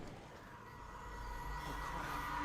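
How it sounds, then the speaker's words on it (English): Train car rumbling in the Alan Wake video game, a steady broadband roar with low rumble that swells slightly louder toward the end, continuous with no talk. "It's a train car"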